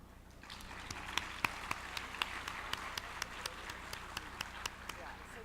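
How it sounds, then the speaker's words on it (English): Sparse, steady clapping from a roundtable session audience, faint and a little distant, with individual claps standing out over a low background hum. "please welcome him and the speakers for the session with a warm round of applause"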